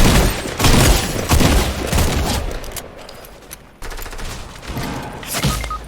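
Gunfire in a Fortnite match, a dense fusillade of rapid shots and booms filling the first seconds, then thinning into scattered bursts with a sharp restart near the end, loud and close with no talk.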